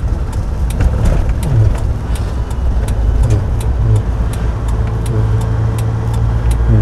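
A manual car accelerating on a road during a driving lesson, its engine and road noise a loud steady drone with a low rumble and some clicking, no talk.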